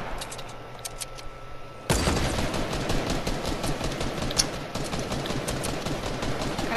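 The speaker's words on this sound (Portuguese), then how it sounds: "Cara, que ele atira em nós." Enemy gunfire in a shooter video game erupts suddenly into a dense, continuous burst of rapid shots that stays loud and steady until the end, following a quieter stretch.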